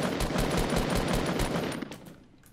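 Rapid automatic gunfire in Fortnite Battle Royale rattles steadily for about a second and a half, a fast even stream of shots that then thins into a few scattered, fainter pops as it fades out.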